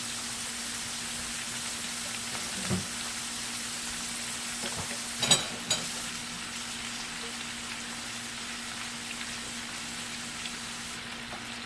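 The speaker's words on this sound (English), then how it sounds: "That's frying really good like I like it." Steady, close sizzling of whiting fish and calamari frying in hot oil, with a couple of soft pops rising above the constant hiss.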